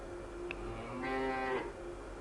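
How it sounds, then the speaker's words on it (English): A cow in the Farm Factory Simulator game gives one drawn-out, moderately loud moo over faint background hum, with no talking. "Hey cows, how's it going?"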